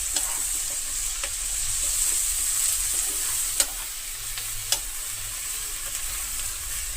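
Ginger, garlic, coriander, cumin and masala fry in a pan for a prawn curry, giving a steady hissing sizzle with a few sharp clicks as a spoon stirs them.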